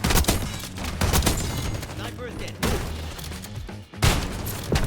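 Shotgun fire in Black Ops 6, loud heavy blasts repeating in quick bursts with in-game action noise between them.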